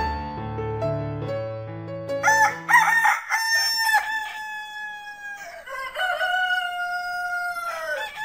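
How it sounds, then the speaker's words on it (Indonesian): Roosters crowing one after another, loud and close, long drawn-out calls overlapping with a few clucks, no talking. "Kokok ayam bersautan membangunkan Nida."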